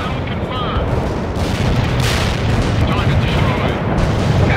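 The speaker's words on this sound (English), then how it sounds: "Heavy artillery barrage inbound." A heavy artillery barrage in the strategy game World in Conflict, a dense continuous roar of overlapping explosions and rumble that stays loud and unbroken throughout, with faint voices underneath.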